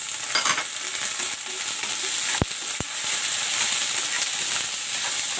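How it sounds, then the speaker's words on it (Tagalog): Chopped onion and tomato sautéing in a hot pan, a continuous close hissing sizzle with two brief sharp clicks partway through. "Ilalagay ko na rin itong sibuyas at ang kamatis."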